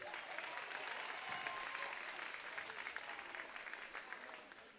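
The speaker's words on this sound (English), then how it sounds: "Please give Cassidy a round of applause." A crowd at a high school basketball senior-night ceremony applauds for a senior player, a broad, fairly distant wash of clapping that holds steady and tapers near the end.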